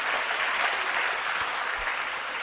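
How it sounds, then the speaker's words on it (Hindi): Audience applause during a Jain monastic sermon at Chandragiri pilgrimage site in Dongargarh, a dense, steady wash of many hands clapping close and loud throughout, with no voice over it. "तो फिर अपने आप ही ताली बजाया करो"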